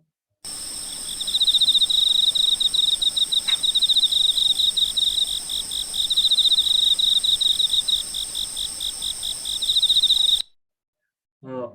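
Close, loud cricket chirping in fast repeated trills, sustained for about ten seconds before stopping abruptly.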